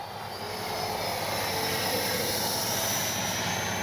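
An FMS Avanti S 70mm electric ducted-fan RC jet flies past with flaps and landing gear deployed, a steady loud whooshing fan roar that swells and holds throughout, with no talk over it.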